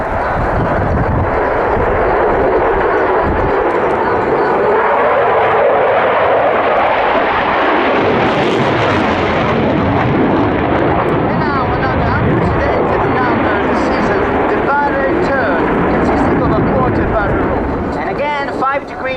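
A display aircraft makes a smooth inverted fly pass at the Royal International Air Tattoo air show, its engine roar swelling as it passes and fading away, with an announcer talking over it.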